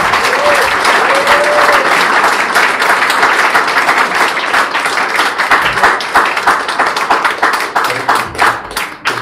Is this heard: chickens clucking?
no